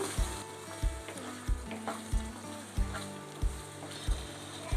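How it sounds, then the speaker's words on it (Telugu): Ginger, garlic and coconut paste sizzles in a pan for restaurant-style chicken curry, with a steady fry broken by regular spoon scrapes and stirring knocks roughly every second, close and alone. "ఈ పేస్ట్ వేసిన తర్వాత 2 నిమిషాలు వేయించుకుందాం."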